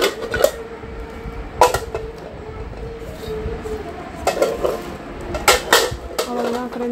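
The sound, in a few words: handling a medium-size pan and its lid while unpacking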